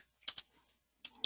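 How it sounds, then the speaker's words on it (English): A few quick keystrokes on a computer keyboard, two close clicks followed by a brief pause and two more, crisp and nearby in an otherwise quiet room. "I'm going to type photic rate"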